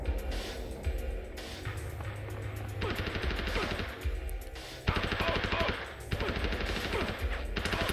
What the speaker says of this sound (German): Erstmal rüsten wir uns wieder unser Maschinengewehr aus.